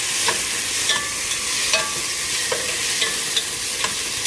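Spoon scraping through washed quinoa frying in a pot, with a steady sizzle underneath and a series of short, rhythmic stirring strokes close by.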